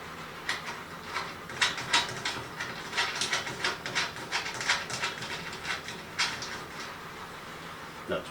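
A bolt being tightened while assembling an elevated garden bed, a run of quick ratcheting clicks and metallic ticks in uneven bursts, close and moderately loud with no talk over it.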